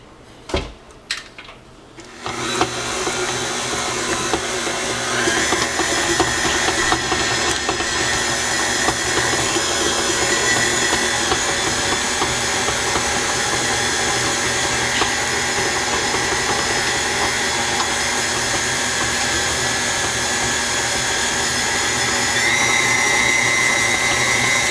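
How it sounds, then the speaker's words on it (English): A stand mixer creams plant-based butter and sugar, running as a steady, continuous motor whir at close range after a few brief clunks at the start, with no talking over it. "So into your stand mixer, you're gonna add in your butter and your sugar, and you're gonna cream it together."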